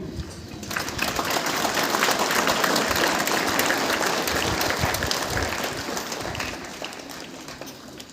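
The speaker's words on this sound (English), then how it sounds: "A huge round of applause for all of you." Sustained applause from a large school audience of students and staff at a St. Joseph's Girls Higher Secondary School day celebration, a dense steady roar of many hands clapping together, loud and unbroken throughout.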